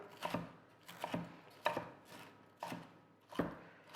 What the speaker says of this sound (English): So just chop it up.